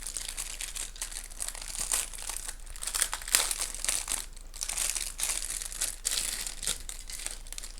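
Plastic packaging from a Raspberry Pi 4 kit crinkles and crackles as it is unwrapped. The bursts of rustling come up close and continue throughout.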